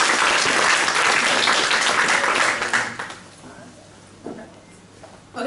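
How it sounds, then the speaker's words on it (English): An audience at a panel event on moving from protest to policy applauds, dense clapping that fades out after about three seconds, leaving a few scattered claps. "Give them a round of applause."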